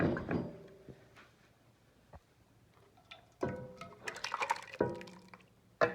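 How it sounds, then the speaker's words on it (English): Alfredo sauce is poured into a pot on the stove, with faint wet glugs and splashes broken by a few sharp clanks of cookware, quiet and close with no voices. "pour the sauce in"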